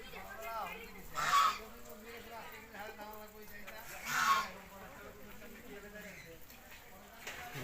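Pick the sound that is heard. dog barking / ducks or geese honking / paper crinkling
ducks or geese honking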